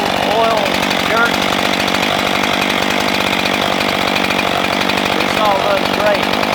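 A Husqvarna 576XP chainsaw fitted with a 25-inch bar runs steadily throughout, its loud, continuous engine drone holding close and even, with a voice speaking briefly over it.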